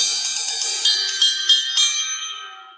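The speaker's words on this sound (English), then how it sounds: "They're called ride cymbals because you can play rhythms on them like this." A ride cymbal struck in a steady rhythm, each hit ringing with a bright metallic shimmer that overlaps the next and fades out at the end, played alone.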